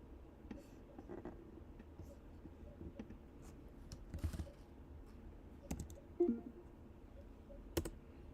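Keys clatter on a computer keyboard in quiet bursts of typing, soft irregular clicks with short pauses and a couple of sharper taps near the end, close and fairly faint.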